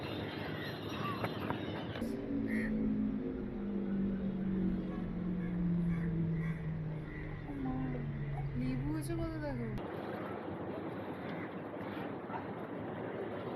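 A boat engine hums steadily while moving along, with a low droning tone that rises and falls and people talking over it.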